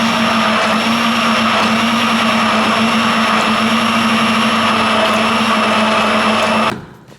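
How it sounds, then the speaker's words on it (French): An immersion hand blender whirs steadily through thick black soap paste, a loud continuous motor drone with a high whine that holds level for several seconds, then winds down abruptly at the end; no voices. "Veillez à arrêter régulièrement pour ne pas griller votre mix-soupe, parce que ça commence quand même à chauffer un petit peu"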